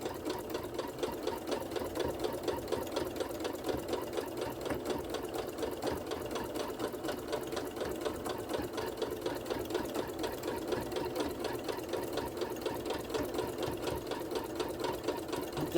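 A sewing machine runs steadily, stitching an oven mitt in a rapid, even mechanical rhythm that holds close and continuous for the full length with no pauses.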